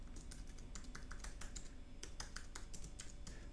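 Rapid, steady typing on a computer keyboard, close and fairly quiet, with irregular clustered keystrokes running throughout and no talking.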